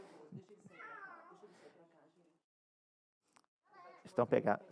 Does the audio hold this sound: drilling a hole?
no